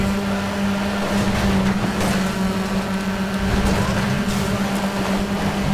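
Rally car engines droning in Sega Rally, a steady buzzing hum of motors at racing speed with slight rises and dips in pitch, continuous and fairly loud throughout with faint scrapes over it.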